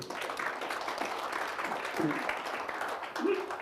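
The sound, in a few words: audience applause during lecture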